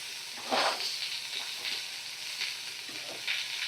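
Chopped small onion frying in a pan for a fish and vegetable curry: steady close sizzle with brief louder bursts as it is stirred, no talk.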